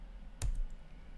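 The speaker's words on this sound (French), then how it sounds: "en appuyant sur la touche E de mon clavier" A single key press on a computer keyboard, one short sharp click heard alone and close up against quiet background.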